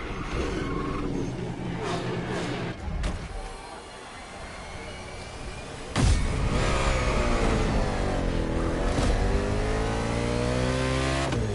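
A race car engine in The Crew Motorfest revs loudly, dipping briefly and then surging into a sustained high-pitched rising whine, with a voice talking underneath.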